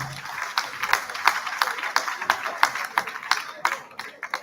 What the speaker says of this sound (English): Please let us clap our hands together for them again.